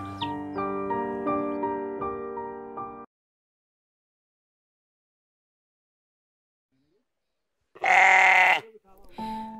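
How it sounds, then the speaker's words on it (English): Sheep belonging to a rural Ethiopian family bleat once, loud and close, with a short follow-up call after a long stretch of silence that follows earlier music. "this Ethiopian family is happy with these sheep and a cow"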